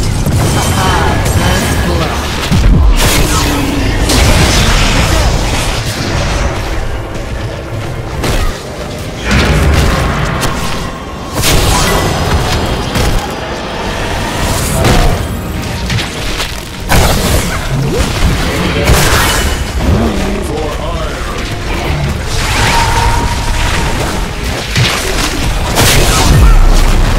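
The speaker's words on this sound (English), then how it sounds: "Your fort is destroyed." Explosions go off as a fort is destroyed in the video game Heroes of the Storm, with loud booming blasts, crashes and bursts of fire overlapping continuously amid dense battle noise, and game voices speaking throughout.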